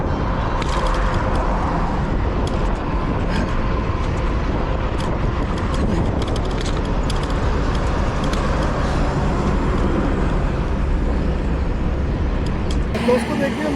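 Traffic on a national highway heard from a bicycle, a continuous loud roar of passing vehicles and wind rumble filling the whole stretch, with a voice talking over it.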